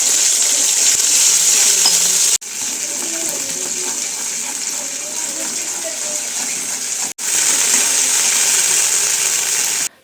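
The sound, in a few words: tempering spices sizzling in oil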